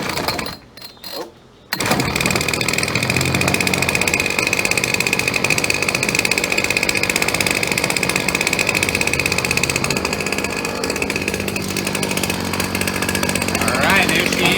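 Ryobi 790r two-stroke string trimmer engine firing up after a brief quiet, then running loud and close with a continuous high buzzing drone as it warms up on the choke.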